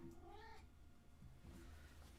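A cat meows close by, a drawn-out rising call followed by a second softer meow, quiet and alone over a faint low background hum.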